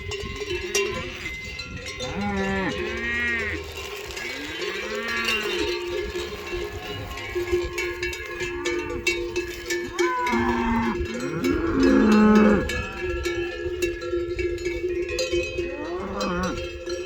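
A herd of cattle on a farm, wearing cowbells, moos loudly and repeatedly from close by, and the bells clank constantly as the animals move. A few faint voices can be heard in the background.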